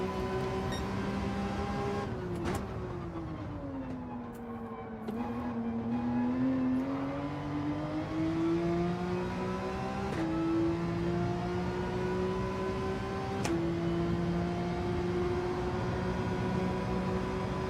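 A Porsche race car engine in Gran Turismo 7 drones loudly and continuously, its pitch climbing steadily through the gears, with brief sharp drops at each upshift and no talking.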